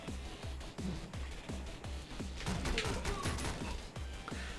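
Rapid gunfire from the video game Canabalt with Guns pops in a quick, regular series of sharp shots over a running game soundtrack, moderately loud throughout.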